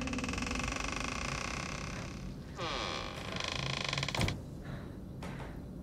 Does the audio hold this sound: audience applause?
no